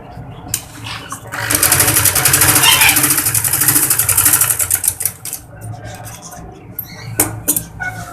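A sewing machine runs in a sustained fast whirring burst while stitching a baby girl's lined kurti, then slows into short stop-start runs with a few clicks.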